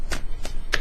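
A deck of tarot cards gets a quick shuffle, giving three short riffled bursts less than a second apart at close range, with no speech over them.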